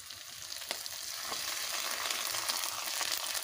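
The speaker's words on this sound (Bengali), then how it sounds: "মশলাগুলো আমার ভালো করে ভেজে নেওয়া হয়ে গেছে।" Onions and ginger paste fry in a pan with a steady close sizzle and occasional stirring scrapes, alone with no voices.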